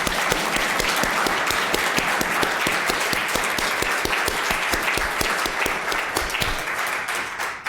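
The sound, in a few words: applause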